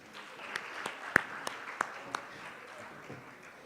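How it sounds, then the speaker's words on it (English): Scattered audience applause at a Caribbean regional risk conference, a handful of distinct sharp claps standing out over a soft ongoing patter that stays fairly quiet and thins toward the end. "Another round of applause, please."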